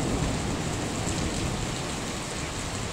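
Steady rainfall, an even dense hiss of drops with no breaks, holding at moderate loudness for a few seconds.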